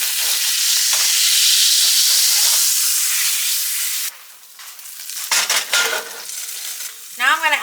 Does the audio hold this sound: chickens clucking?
no